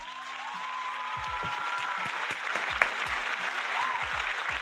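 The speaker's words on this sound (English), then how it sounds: "let me get my clapping music" A recorded applause effect plays during a live hot-topics talk show: steady crowd clapping with cheers, moderately loud and continuous, with a faint voice briefly underneath.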